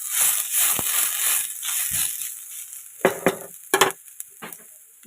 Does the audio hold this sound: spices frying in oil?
yes